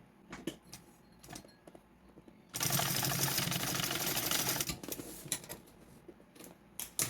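A sewing machine stitches a shoulder bag strap in place using half the presser foot width. One loud, continuous run lasts about two seconds, set between quieter handling clicks and rustles, with no voice.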